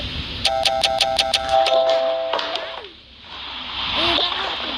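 A doorbell chimes rapidly several times in a quick run of bright electronic tones, then a longer two-note ding-dong melody rings out.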